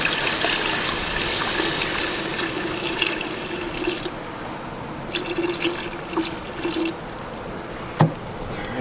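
Water pours steadily into a pot of cooking curry for a king crab dish, a continuous close splashing gush with a few small clinks and knocks near the end and no talking.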